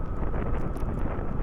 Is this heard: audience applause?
no